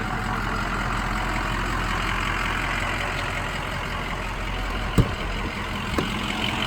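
A truck engine idles steadily before driving off to collect an RV trailer from storage, a constant low drone with a sharp knock near the end and a fainter click after it.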